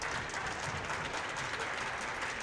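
Indoor crowd at a high school volleyball match between West Fargo and Fargo North applauding steadily, a dense even wash of clapping that holds at constant loudness throughout, with no talk over it.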